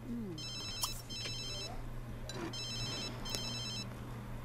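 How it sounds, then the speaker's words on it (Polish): A telephone rings in The Sims 3, with two bursts of high, chirping electronic trills separated by a short pause, clear and fairly loud over quiet game background sounds. "Majeczko, może byś odebrała jednak ten telefon?"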